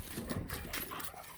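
A dog on an old farmhouse in winter gives soft whimpering whines and breathy noises in a short close burst, with no talk over it.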